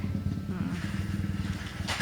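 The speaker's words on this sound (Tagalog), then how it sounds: "Pasensya na may motor." A motorcycle passes close by outside a house, its engine a steady, rumbling drone throughout.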